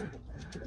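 Racing pigeons back at their home loft after a race give a soft, low cooing, close by and steady for a moment.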